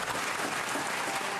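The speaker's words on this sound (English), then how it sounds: "The Senate chambers erupted in applause" Loud, dense applause erupts in the New Jersey Senate chambers after a vote, many hands clapping at once in a continuous roar with no voices rising above it.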